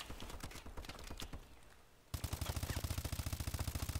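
Call of Duty gunfire: an early volley of shots, a brief lull, then a loud, evenly paced automatic burst of rapid rounds that continues to the end.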